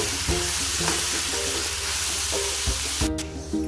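Garlic and cashew masala fries in oil in a pan, a steady sizzle running throughout while a spoon scrapes and stirs in a few distinct strokes, close and fairly loud.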